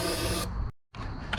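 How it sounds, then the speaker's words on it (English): Brake cleaner sprays in long, loud hissing bursts over a K24 engine block in a workshop, cutting off briefly before a second burst. "So we're just spraying everything out here with brake clean."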